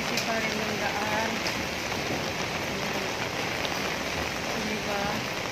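Steady rain pours during a typhoon, a dense, even hiss close by that runs unbroken and loud for several seconds, with faint voices underneath.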